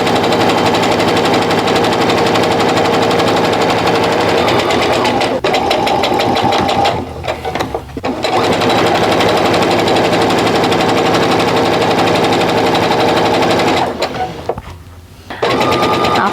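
A sewing machine runs a quarter-inch seam while piecing half-square triangles for a quilt, its loud, steady motor whir and needle chatter continuing for long stretches, broken by two brief pauses.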